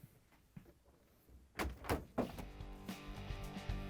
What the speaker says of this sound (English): Now we can close the doors.